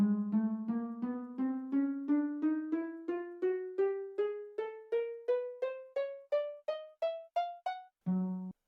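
Minecraft note block with its harp or piano tone, plucked in a steady rising scale of about twenty-five short notes climbing in pitch, then one final low note, clear and alone with no talk.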